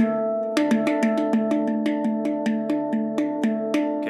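Bright metallic handpan notes struck in a quick, even series, ringing together and sustaining into a warm, overlapping harmonic chord.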